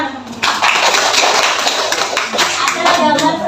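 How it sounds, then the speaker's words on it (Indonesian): Clapping from a class audience during a lesson about atoms, loud and close, a dense patter of many hands with children's voices chattering underneath. "terima kasih. Tepuk tangan."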